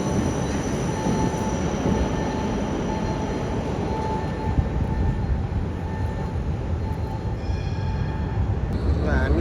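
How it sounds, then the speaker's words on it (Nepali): An electric city tram in Vienna rolls in with a steady loud rumble of wheels on rail, a faint squealing tone above it and a short hiss near the end. "हामी चढ्ने ट्राम पनि आयो"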